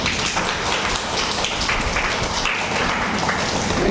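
Audience clapping during a Brahma Kumaris spiritual class in Kutra, Odisha: a dense, steady patter of many hands that runs evenly through the whole stretch, with no voices on top.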